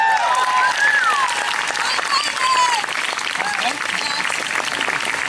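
A crowd at a Save the Palace Theatre rally applauds in a steady, dense patter of clapping, with voices and whoops rising above it throughout.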